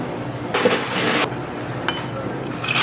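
A shaken cocktail is poured out through a wide strainer, a short splashing pour followed by a couple of faint clinks and another brief trickle.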